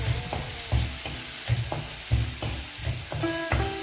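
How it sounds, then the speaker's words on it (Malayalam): Chopped onion, green chili and salt sauté in a hot pan, a steady sizzle under rhythmic scraping stirs of a spoon, about eight strokes in a few seconds, fairly quiet and close, with no talking. "ഇതെല്ലാം ചേർത്ത് നന്നായിട്ടൊന്ന് വഴറ്റി കൊടുക്കാം"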